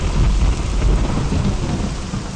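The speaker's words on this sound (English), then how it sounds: "and it is starting to rain" Heavy rain and rolling thunder in the Skyrim video game, a loud, steady downpour with deep low rumbling throughout and no talking.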